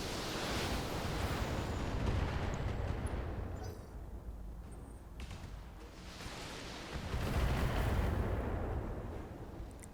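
A BattleTech mech fires all its weapons at once, a fairly faint, deep rolling rumble of blasts that swells twice, like distant artillery, with no voices.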